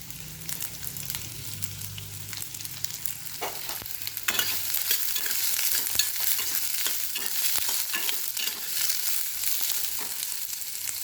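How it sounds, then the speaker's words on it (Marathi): Chopped onion sautéing in hot oil for hotel-style paneer, a steady bright sizzle with spoon stirring and scraping, growing louder and denser partway through, close and continuous with no talk. "हे गुलाबी आपल्याला परतवून घ्यायचा आहे कांदा"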